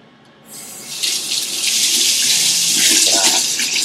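A tap runs close by as a razor clogged with shaving cream is rinsed under it, with water hissing and splashing steadily after a short quiet start.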